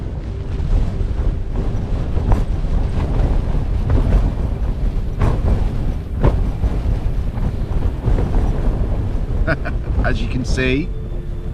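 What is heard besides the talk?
strong wind at a wild campsite in the Lake District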